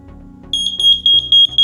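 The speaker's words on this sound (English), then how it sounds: "it has triggered the alarm, detecting the smoke within the first 8 seconds" A smart WiFi smoke alarm, triggered by smoke, shrieks with rapid, piercing high beeps in a steady repeating pattern, loud and close.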